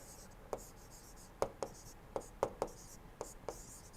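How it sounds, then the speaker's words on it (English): Chalk or marker taps and short strokes on a board while thermodynamics equations are written out in a lecture, about eight sharp, separate knocks at uneven intervals over a quiet room hum. "Let us write."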